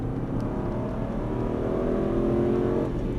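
An Aston Martin engine accelerates steadily on the Dreux race circuit, its pitch rising in a smooth sustained roar, fairly loud and continuous with no talking.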